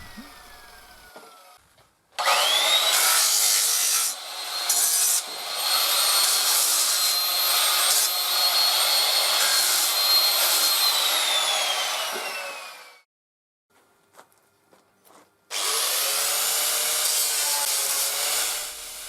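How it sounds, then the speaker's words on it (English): Wooden lid corners being hand-sanded before painting, a loud steady rubbing scrape running in long bursts with a short pause near the middle of the stretch, then resuming; no talk. "I sand all my corners so that when they're painted they have no sharp edges"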